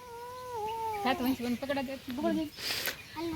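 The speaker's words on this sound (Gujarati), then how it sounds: "બસ્તા મેવ મેવ કરે" Small kittens meow close by in a home, giving a string of short, high, wavering cries one after another.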